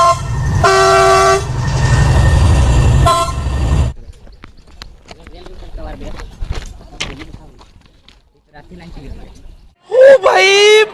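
A train rushes past at speed near Singra station in Assam, a loud roaring rumble with blaring horn blasts for about four seconds, then fading as people talk and one voice shouts loudly near the end.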